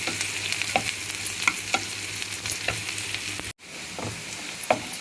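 Onions and green chillies frying in a pan for ragi uppittu, a steady close sizzle with periodic scrapes of a stirring spoon, briefly cut off near the end before the sizzling resumes.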